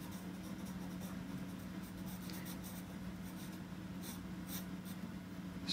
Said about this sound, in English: I'm going in with a soft charcoal pencil and adding in some even darker areas